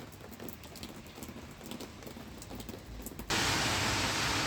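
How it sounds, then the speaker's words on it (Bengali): Steady patter of rain on a surface in Italy, shifting abruptly to a loud, dense hiss of downpour near the end. "অনেক বৃষ্টি হচ্ছে"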